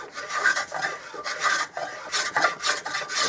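A straight sanding block is rubbed back and forth over a wooden Winchester Model 100 rifle stock, giving a steady series of close, raspy strokes in an even rhythm with no talk.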